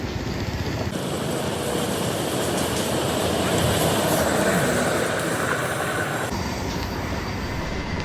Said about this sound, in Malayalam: അപ്പോൾ ട്രെയിൻ കടന്നു പോകുന്നുണ്ട്